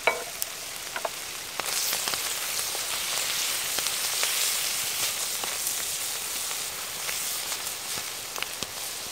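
Parsnip and spring onions fry in a pan inside a Viking tent, giving a steady, close crackling sizzle with scattered pops throughout.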